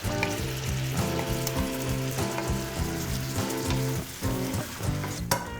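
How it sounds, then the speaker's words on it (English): Sticky pork stir fry sizzles loudly and continuously in a hot pan coated with glaze, a dense steady crackle with no talking. "pop it all back on into the pan, into the lovely hot pan"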